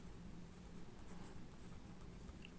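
A pen scratches steadily across paper while drawing a square during a geometry lesson, a faint, continuous soft scraping with no pauses.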